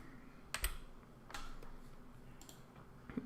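Keys on a computer keyboard click in a few short bursts of quick taps separated by pauses, close and fairly quiet against a soft room background.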